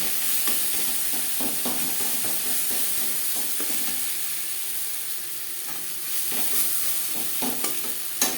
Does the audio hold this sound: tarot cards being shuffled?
no